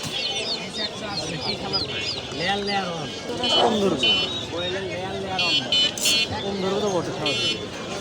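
Chickens at a pigeon and poultry market in Mirpur cluck repeatedly in short rising-and-falling bursts, close by, mixed with people talking nearby.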